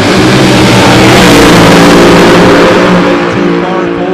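Nitro drag racing cars roaring down the track at the Edgewater final round, a dense, loud and continuous engine blast that holds steady for several seconds before easing slightly at the end, close by and with no talk.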